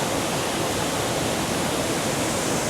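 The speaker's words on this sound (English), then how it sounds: "you just witnessed the first waterfall" Waterfall at a swimming spot near Cali, Colombia, with a water slide, roaring as a steady, dense broadband rush of falling water, close and loud throughout with no voices.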